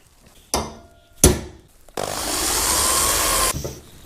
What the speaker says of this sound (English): Before I go drilling holes in steel, I always use a center point.